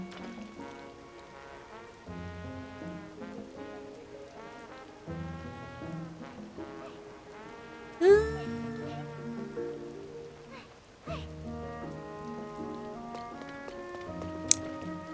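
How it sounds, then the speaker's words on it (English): Rain falls steadily in Zelda: Tears of the Kingdom, a soft patter running under louder melodic game music with a brief bright accent partway through. "The poor girl running in the rain."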